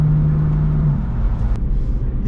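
Sports car exhaust on a mountain road, likely the Aston Martin V8 Vantage or BMW M4: a loud, steady low rumble under way, with a brief rising drone early on and a sharp pop midway.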